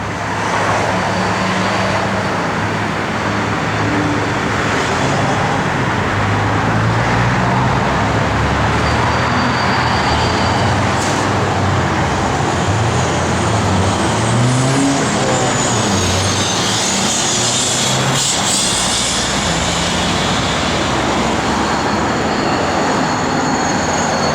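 A 1965 Pontiac Tempest engine with a mild cam runs steadily for a long stretch, a loud, continuous low rumble with slight rises and falls in revs.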